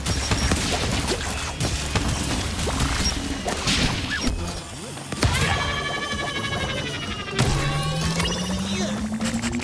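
Ally bombardment in Crash Team Rumble: a dense, loud barrage of crashing blasts and whooshing impacts layered over busy game music and effects, with sharp new hits near the middle and end.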